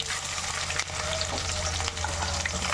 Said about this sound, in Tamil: எண்ணெய் காஞ்சிருச்சு வந்து கடுகு போட்டுக்கணும் அதுக்கப்புறம் ரெண்டு சீரகம் சீரகம் போட்டு